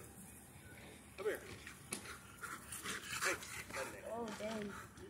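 Police K-9 dog at a school training demonstration, panting and giving short whimpering yips at close range while people talk loudly over it.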